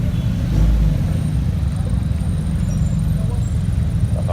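Cars doing burnouts and donuts at a local car meet in Tampa give off a continuous low engine roar with steady rumbling texture, loudest briefly near the start.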